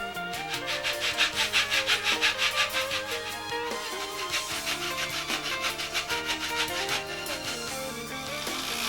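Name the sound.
cutting and shaping a balsa wood base plate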